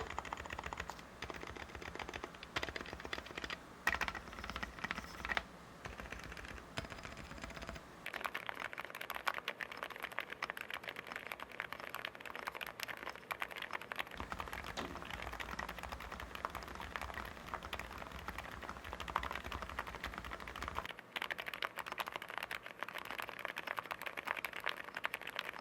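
Steady typing on a white wired keyboard with an aviator-style coiled cable, a continuous run of close, crisp keystrokes lasting the whole stretch with no talking.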